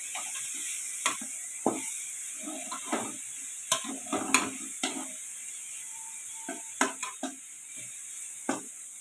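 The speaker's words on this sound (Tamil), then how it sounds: "இது மாதிரி வதங்கினா தான் தேங்காய் எவ்வளோக்கு எவ்வளோ வதங்குதோ அவ்வளோக்கு அவ்வளோ வாசனையாக இருக்கும்" Grated coconut sautéed for a South Indian poriyal, faint sizzle under a spatula scraping and stirring against the pan in irregular taps and scrapes, close and alone with no talk.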